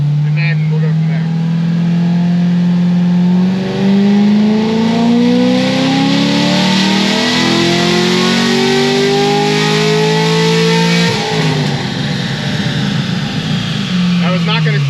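A Corvette C6 Z06 with a Stage 3 setup revs hard, its engine note climbing steadily through the gears before a sharp shift drop near the end. It is loud, close and continuous, and a voice talks partway through.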